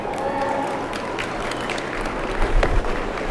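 Audience applause for Simmental steer exhibitors at a 4-H county fair beef show, a steady wash of clapping with a few louder swells near the end and faint crowd noise underneath.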